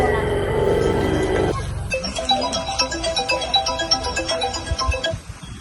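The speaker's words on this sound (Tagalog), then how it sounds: "Wait lang muna, tatawagan ko muna si Rona" Phone ringtone plays loudly and steadily for about a second and a half, then gives way to a rhythmic pulsing ring pattern that continues until cut off, with no talking over it.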